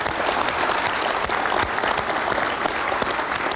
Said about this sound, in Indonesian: untuk pasangan Amin, kita berikan tepuk tangan.